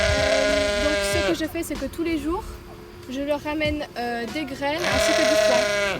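Sheep, including two ewes, bleat loudly and repeatedly on a countryside farm, with a drawn-out bleat opening and closing the stretch, while a person talks over them in French at close range.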